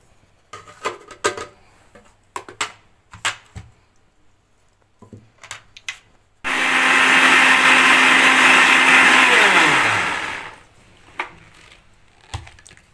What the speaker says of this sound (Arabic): هنضرب كل المكونات دي كلها كده في الخلاط